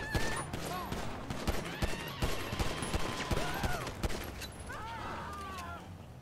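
Rapid bursts of gunfire crack repeatedly in a roleplay video game shootout with four security guards, over a busy game soundscape with scattered voices and other effects mixed in.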